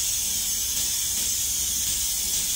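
A pressure cooker braising Cantonese beef brisket with radish releases steam in a loud, steady, unbroken hiss. The sound is close and constant, with nothing else heard over it.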